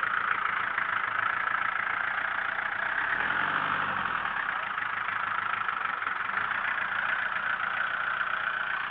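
A 1964 Vengador rally car fitted with a 1970 Indenor 4.88 engine idles steadily and close by before the start of a rally raid at Puerto de La Paz, with a brief deeper rumble partway through.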